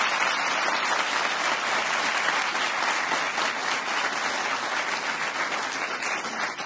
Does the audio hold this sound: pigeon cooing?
no